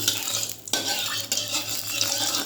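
Oil warms in a kadai over a gas flame, a steady broadband hiss close by with a low hum underneath and a couple of brief scraping knocks.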